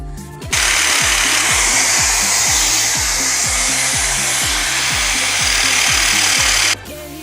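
A power tool fitted with a star bit works at a drum screw on an Ariston AQSF 129 washing machine, a loud, close grinding whir with rapid rhythmic pulsing that runs steadily for about six seconds.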